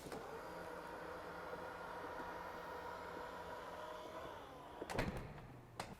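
Powered tailgate on a 2020 model-year Range Rover Sport moving under a steady motor hum, ending with a firm latch thunk and a short clunk near the close, recorded up close with no talk.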